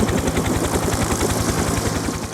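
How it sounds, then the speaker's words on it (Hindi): A helicopter flies overhead, its steady rapid rotor thumping loud and continuous throughout. "जैसे वो हेलीकॉप्टर के देख रहल बाड़ा,"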